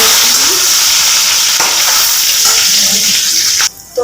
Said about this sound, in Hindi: तो मेरा अदरक, लहसुन और मिर्च भुन गया है